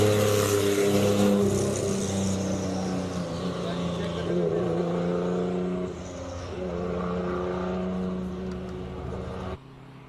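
Classic race cars, including an old Ford Mustang Shelby GT350, launch off the line at the Speed Classic in Cape Town, engines roaring loudly and steadily as they accelerate away.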